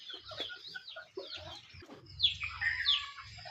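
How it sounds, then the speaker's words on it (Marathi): Brooding hens sitting on eggs in sacking-lined tyres give soft low clucks and murmurs, faint and close, with some higher chirps and rustling in a quiet farmyard. "खुडूक आलेल्या कोंबड्या अंडे धरून बसले आहेत"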